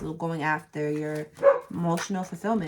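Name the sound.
dog barking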